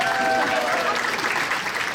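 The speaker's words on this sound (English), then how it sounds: "Let's give a round of applause for Lauren." Wedding guests give a round of applause: a dense, steady burst of clapping from a crowd, filling the whole moment at close range.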